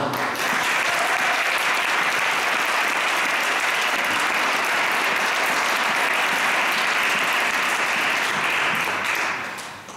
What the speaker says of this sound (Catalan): Abans de començar la cançó, permeteu-me un fort aplaudiment pel Pol Anyà, que el piano, si us plau.